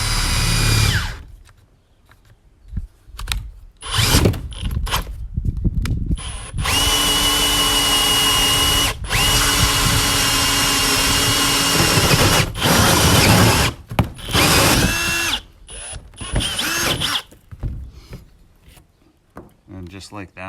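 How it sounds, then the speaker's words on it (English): Power drill boring a 2-inch hole through the roof of an enclosed cargo trailer, a loud sustained grinding whine running about eight seconds mid-clip, bracketed by shorter bursts, clicks and handling noise. "So I'm going to drill a 2-inch hole through the center of this"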